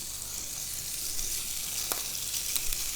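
A soda farl sizzles on a griddle pan, a steady close hiss of frying with a few faint pops and no talking.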